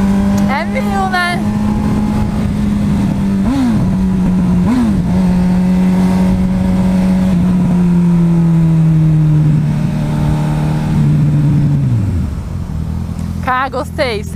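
A Honda CB1000 motorcycle engine drones steadily up close while riding, with a couple of brief throttle blips and a long gradual slide in pitch before it drops away near the end. A voice is heard briefly.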